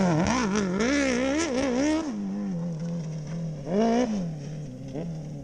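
A 180 kg, 100-horsepower Honda CBR racing motorcycle revs hard for a practice start, with a loud, close engine rising and falling for two seconds, then settling to a steady idle before another short blip of throttle.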